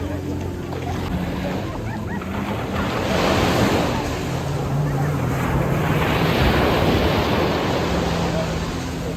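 Sea waves washing onto the beach at Ras Al-Khaimah, with a continuous surf roar that swells and recedes in broad surges, heavy wind buffeting the microphone throughout.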